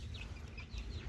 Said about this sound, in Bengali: আমাদের কাছে কিছু টাইগার মুরগি রয়েছে